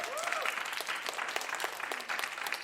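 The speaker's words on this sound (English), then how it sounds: "Give yourselves a round of applause." Audience applause at a live podcast recording at South by Southwest, with a crowd clapping steadily throughout, somewhat distant and moderately quiet, with a faint voice underneath.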